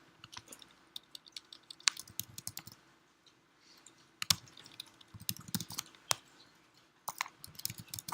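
Quiet, irregular clicking of computer keys during a machine learning lecture on linear regression, with short bursts of keystrokes separated by brief pauses and no talk over them.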